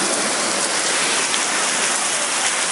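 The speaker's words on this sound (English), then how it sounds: "Look at that rain." Heavy rain pours steadily during a flood-threatening downpour outside a house, a dense, loud, continuous hiss of drops hitting surfaces with no pauses.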